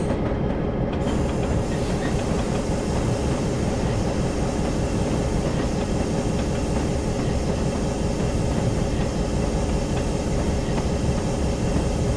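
An EMD F7 locomotive in Train Simulator on the B&O Mountain Subdivision rumbles steadily and loudly, with continuous rail clatter and a faint hiss throughout and no talking.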